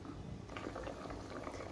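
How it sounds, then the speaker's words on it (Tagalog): A pot of noodle broth with sardines for pansit bihon bubbles at a low boil, a faint, steady churn of small bubbles with no talk. "kumukulo na siya"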